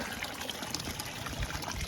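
Water pours and trickles into a pond bog filter, a lively splashing babble with bright droplet sparkle over a steady gush, close and continuous.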